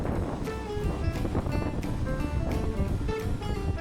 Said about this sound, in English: Here comes an inbound fisherman boat.